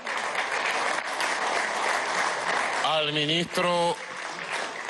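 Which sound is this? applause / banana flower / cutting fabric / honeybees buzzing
applause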